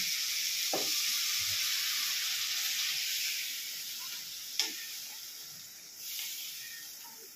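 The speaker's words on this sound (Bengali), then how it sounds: "এবার তুমি জল দিয়ে দেবো।" Water poured into a hot pan while cooking a Bengali chhanar bora dalna (paneer fritter curry) sets off a steady broad sizzle that fades gradually, with a couple of soft clinks near the end.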